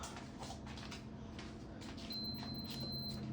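A single thin electronic beep tone from a bread-making kitchen appliance holds for about a second over a low background hum and faint clatter, quiet and somewhat distant.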